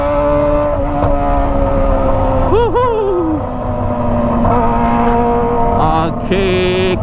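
A Kawasaki ZX25R motorcycle fitted with a Toce exhaust revs loudly and close by, its high-pitched engine note rising in a sharp blip midway through a steady, continuous drone.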